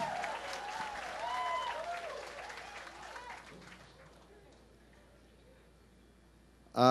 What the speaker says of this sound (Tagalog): Mayor Johnny Villanueva, lakas ng palakpak